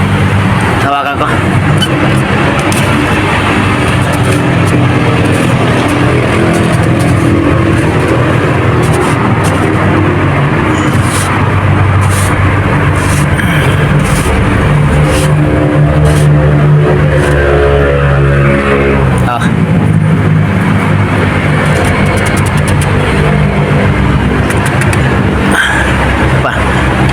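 Mitsubishi Montero Sport engine idling steadily after a fuel filter change, a loud continuous low rumble that runs the whole time with a brief shift partway through, with people talking over it.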